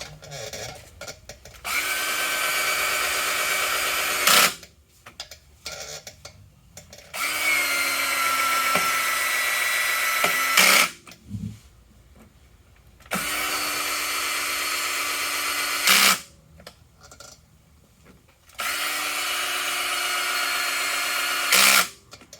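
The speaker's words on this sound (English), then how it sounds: "So I actually cut an Allen wrench off and I just stick it in my drill" A power drill fitted with a cut-off Allen wrench drives screws at low torque in four sustained bursts of several seconds each, separated by short pauses, close and fairly loud.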